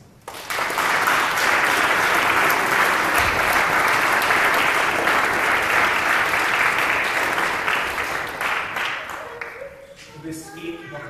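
A church congregation gives hearty applause after a service, a long, loud, full-room clapping that holds steady for several seconds, then thins out and tails off as voices and a few stray claps remain.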